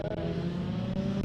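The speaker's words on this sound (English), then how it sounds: "You can hear the little 13B Miata behind us" Mazda Miata with a 13B rotary engine at a drag strip, a steady buzzing engine drone with strong harmonic tones, running continuously at a moderate distance without voices.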